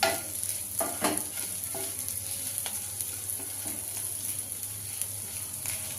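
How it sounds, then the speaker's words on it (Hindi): Onions with grated ginger and chopped green chillies frying on low-medium heat, a steady soft sizzle under scattered scrapes and knocks of a spoon stirring the pan, with a constant hum underneath. "प्याज को हम इसी तरीके से चलाते हुए लो मीडियम पे 1 से 2 मिनट तक भून लेते हैं"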